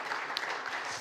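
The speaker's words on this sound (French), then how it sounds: "Vous pouvez l'applaudir" Audience applause welcoming a speaker at an entrepreneurs and investors club event, a short steady burst of clapping with no voices.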